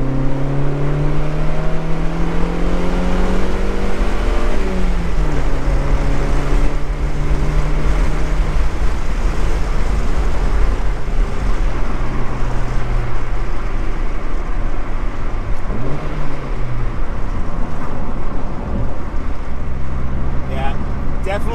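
A 1999 Honda Civic CX hatchback fitted with a Revel Medallion Touring-S exhaust pulls at full throttle, its engine drone rising through gears in a loud, steady roar from inside the car, with a voice faintly present.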